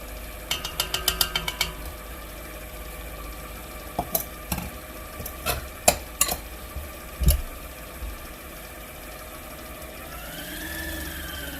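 Gingerbread batter with soured milk stirred in a bowl, giving a run of close clinks and scraping strokes, dense at first and then scattered sharp taps, over a steady low hum.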